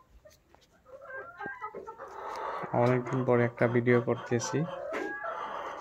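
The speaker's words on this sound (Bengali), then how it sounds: "দেশি সোনালী মুরগিগুলা এইগুলা সব আন্ডার প্রোডাকশনের জন্য রাখা হয়েছে" Deshi Sonali chickens kept for egg production cluck and crow repeatedly, fairly close and loud, with bursts of calls building in the second half while someone talks over them.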